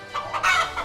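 A farmyard hen clucks in several short, clear bursts in quick succession, close and fairly loud, with no voices.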